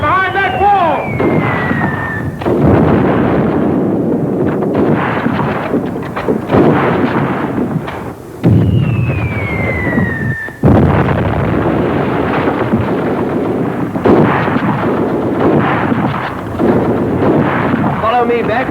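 Sustained gunfire and battle noise from behind a wall in a war film, dense rumbling blasts and cracks throughout with shell whistles, while voices shout under the din.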